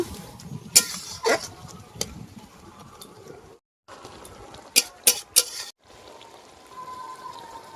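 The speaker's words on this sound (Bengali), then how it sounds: "এবারে মাছগুলো দিয়ে দেব। মাছগুলো দিয়ে নেড়ে নেব।" Small mourala fish frying in a pan are stirred with a spatula: several loud scraping clatters and bursts of sizzle, separated by quieter stretches and a brief near-silent gap.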